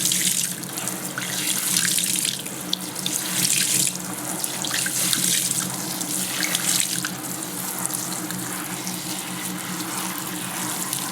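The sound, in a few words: tap water running over wet felt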